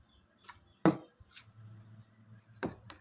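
Breadfruit batter mixed by hand in a bowl, heard as a few soft wet slaps and squelches spaced irregularly, with quiet handling noise between them.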